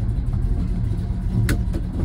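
A 1968 Dodge Coronet 500 with a 440 V8 rumbles on a test drive, its deep, rough engine note loud and close throughout, with slight swells as the throttle changes.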